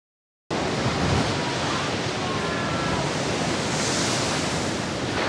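Ocean waves surge and crash against rocks on the central Oregon coast during a king tide, an extra-high tide. The roar of surf and spray is loud, steady and continuous, with wind noise over the microphone and no talk.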